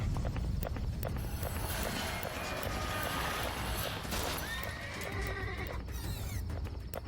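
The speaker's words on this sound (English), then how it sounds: "An Amish horse and buggy whips around a corner" An Amish horse and buggy on a road at night in Quarryville, Pennsylvania: loud, close neighing and whinnying over quick clip-clopping hooves, with a sharp clatter midway and a shrill squeal near the end.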